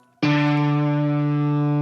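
Single guitar note in a beat sample, struck once and left ringing as a steady, processed sustained tone with rich overtones; close and alone, no talk.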